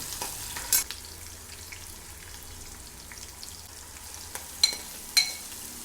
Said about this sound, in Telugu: ఆవాలు జీలకర్ర పచ్చిపప్పు అండి ఎండుమిరపకాయలు కూడా వేస్తున్నాను ఉల్లిపాయలు పచ్చిమిరపకాయలు కూడా వేసేస్తున్నాను